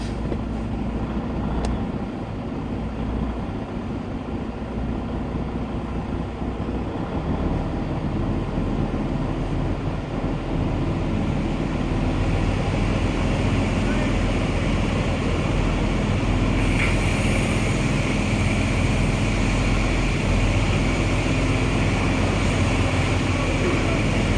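A big rig truck rolls on in gear, its low diesel drone and road rumble steady and continuous inside the cab, slowly building in level with a brief hiss partway through.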